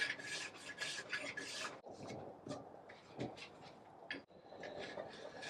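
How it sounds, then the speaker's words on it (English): A file rasps against the sidewall of new skis being prepped, with repeated close scraping strokes in uneven bursts and short pauses, no talk. "I'm trying to just get my sidewall off there."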